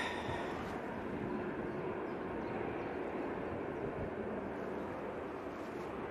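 An Etihad airliner taxiing at Manchester Airport on a windy day, a steady distant jet rumble and roar that holds evenly throughout with no voices.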